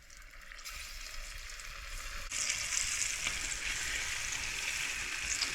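Pieces of sea turkey fish drop into hot avocado oil, and the steady frying suddenly swells into a louder, brighter, crackling sizzle that carries on evenly, close up and without talk.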